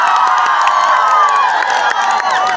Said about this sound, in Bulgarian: Я ни аплодисменти за тия страхотни музиканти.